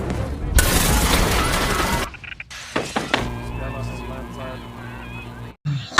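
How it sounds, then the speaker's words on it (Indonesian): A grenade blows up in an action film, a loud blast with rushing debris and breaking sounds, then scattered impacts and a tense music bed, with a sudden dropout near the end. "Akibat ledakan tersebut,"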